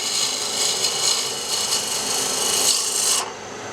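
The bevel of a cutter is ground against a sharpening surface, making a continuous harsh rasping hiss for about three seconds before it stops abruptly, close and fairly loud.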